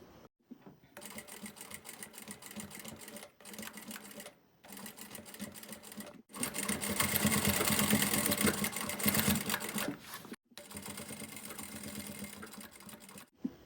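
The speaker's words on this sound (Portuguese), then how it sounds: "a gente vai passar uma costurinha aqui" A sewing machine stitches a seam on a fabric pouch, running in several close, steady bursts separated by short pauses, with one longer and louder run near the middle.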